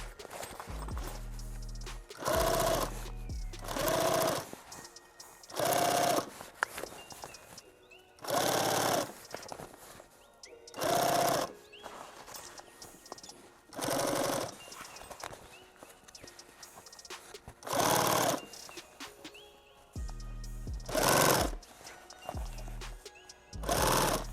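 A sewing machine stitches a rifle case in repeated loud bursts of rapid mechanical chatter, each run lasting a second or two and separated by short pauses.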